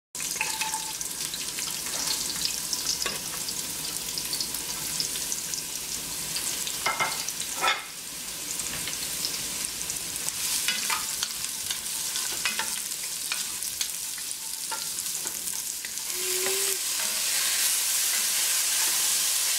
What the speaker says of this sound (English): I'm gonna let the oil heat up, and then I'm going to add my carrots.